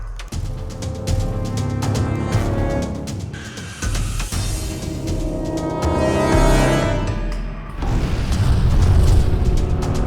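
Deep, continuous roaring rumble of a volcanic eruption at Kirishima as ash rises thousands of metres, with boom-like surges and swelling intensity throughout, loud and sustained with no voices.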